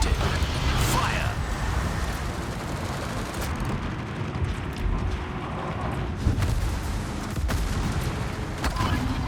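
Warship guns firing in a naval combat video game, heavy booms and rumbling blasts over a dense roaring battle background, with a sharper report late in the sequence.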